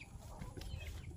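A hen clucks softly at close range in a chicken coop on a rural property, short low calls over faint background rustle.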